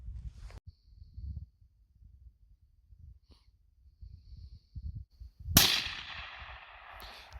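A single loud, sharp crack from a hunting rifle fired outdoors in southern Arizona before a Coues deer hunt, ringing off briefly. Soft breathing and quiet rustling come before the shot.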